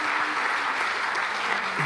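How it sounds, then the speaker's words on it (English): Audience applause at a church gathering, a dense steady wash of many hands clapping at even loudness throughout, with no clear talk over it. "So let's give him a round of applause."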